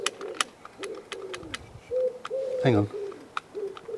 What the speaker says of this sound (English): I can hear the pigeon would stop cawing.